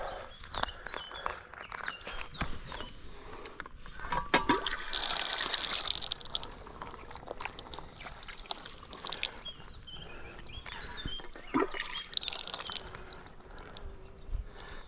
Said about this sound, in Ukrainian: і набираємо воду